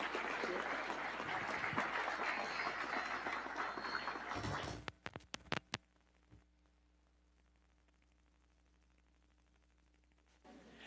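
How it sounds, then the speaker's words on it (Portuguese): A church congregation applauds in a loud, steady burst for nearly five seconds, ending in a few sharp claps and knocks, followed by near silence with a faint hum. "aplauda o Senhor Jesus pela vida do pastor"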